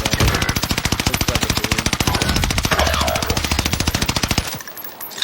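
Assault rifle in Call of Duty Warzone firing one long sustained full-auto burst, rapid evenly spaced loud shots for over four seconds, then stopping abruptly.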